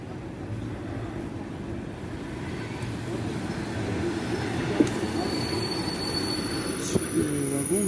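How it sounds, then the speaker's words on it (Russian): An electric commuter train pulls into the Serp i Molot railway platform in Moscow on an autumn day, its low rumble growing steadily louder as it nears, with faint wheel squeals on top. "Вот подходит наша электричка."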